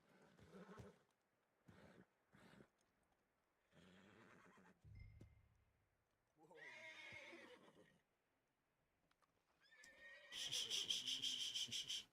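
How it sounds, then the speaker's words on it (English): Horse whinnies in a cowboy-style video game, with several short neighing calls and snorts, a brief low thump, and a louder final burst with bright jingling clatter, all fairly close and with no talking. "That's a pretty horse too."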